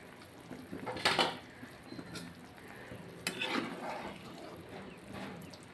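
A cooking pot lid is lifted off a simmering lentil fritter curry, giving two soft metallic clanks close by amid quiet kitchen clatter.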